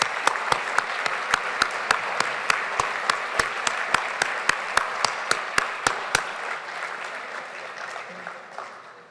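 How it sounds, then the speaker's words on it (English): A round of applause at a university alumni ceremony fills the hall at Bowling Green State University, a continuous clapping roar punctuated by sharp, evenly spaced clicks that stop partway through as the applause slowly fades. "Please join me in giving a round of applause."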